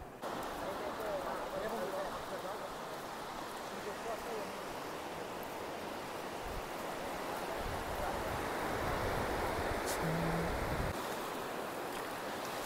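Beach waves on a coastline flanked by hills, heard as a steady broadband wash of surf mixed with wind noise, continuous and fairly distant throughout.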